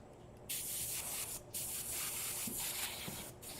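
An airbrush sprays quick coat resin onto a geode in close, hissing bursts: one short burst, a brief pause, then a longer spray broken by a few quick gaps.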